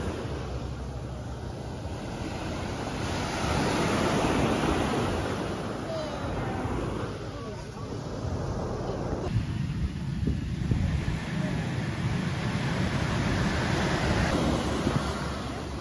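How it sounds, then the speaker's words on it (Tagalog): Ocean surf breaking on the beach at Calayo Beach, Nasugbu, Batangas, a steady loud wash of waves with wind buffeting the microphone throughout, swelling and receding continuously. "Alon."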